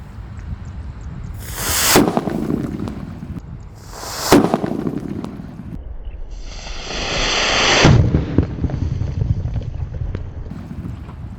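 Outdoors in strong wind, paper-wrapped firecrackers packed into watermelons go off as three loud bursts across about eleven seconds. Each bang is followed by a brief spray of debris, all over a constant rumble of wind on the microphone.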